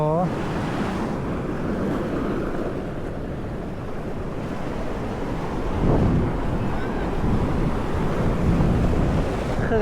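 Strong sea waves, whipped up by an approaching storm, crash steadily onto a rocky beach at Sattahip, Chonburi, a loud, continuous roaring surf with heavy wind buffeting the microphone throughout.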